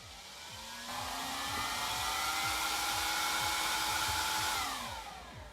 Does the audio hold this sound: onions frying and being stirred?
no